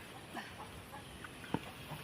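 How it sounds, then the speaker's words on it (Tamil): A chicken clucks softly in a few short, scattered bursts, faint against quiet outdoor background noise, with no talking. "கோழியை விரட்டி விடு பாப்பா"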